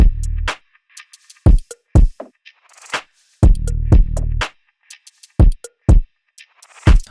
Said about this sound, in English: this is the drum loop